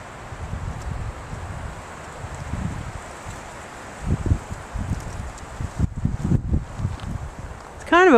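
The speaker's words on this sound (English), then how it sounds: "Kind of a windy day to be doing this. You're probably going to get a lot of wind noise" Gusting wind buffeting a microphone outdoors in a spring yard with blooming daffodils, low rumbling bursts that come and go in uneven surges, louder near the end, with someone talking close by.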